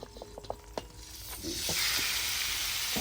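Pork belly hits hot oil with a few clinks of a utensil first, then a loud, steady sizzle of frying takes over.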